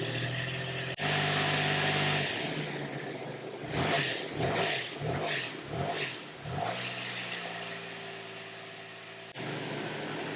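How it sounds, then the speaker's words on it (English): A car engine idles in drive, then revs in a quick series of pulsing surges during a brake torque test before settling back to a steady drone. "You should be able to hear the engine brake torque."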